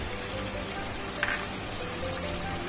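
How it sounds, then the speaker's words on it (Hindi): Chicken karahi fries steadily in a pan, a continuous close sizzle with a brief louder crackle partway through, no voices. "अब इसको हम भूनेंगे।"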